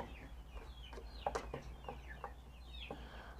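A rooster gives short, scattered clucks and calls at a modest distance, with faint light rain falling and a low steady hum beneath.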